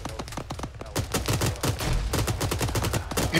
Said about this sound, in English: We're getting hit by another 50 cal southwest.